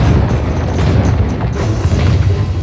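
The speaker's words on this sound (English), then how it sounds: "My barrage is being supported by my allies' Cossack musketeers." Artillery barrage in the strategy game Medieval II Total War, heard as a loud, continuous low rumble of booming blasts with no pause.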